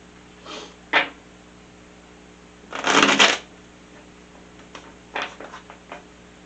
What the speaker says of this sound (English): Give one shuffle.